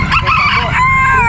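A goose honks at an open-air pet market, loud close nasal calls in a quick series over background market noise.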